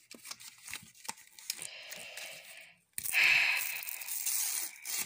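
Harry Potter trading card pack torn open by hand: crinkling foil and paper rustles, then a louder, sustained ripping tear near the mic, with no talk.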